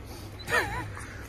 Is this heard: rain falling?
no